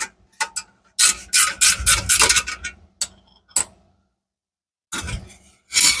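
A ratchet wrench cranking the exhaust clamp bolt on a turbo GT45 Mustang, a loud close run of rapid clicking pulls broken by short pauses and a silent gap, then more ratcheting.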